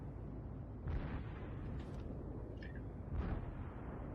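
Torpedo hits on the battleship New Mexico in the naval game World of Warships, two muffled booming impacts about two seconds apart over a constant low rumble of the ship.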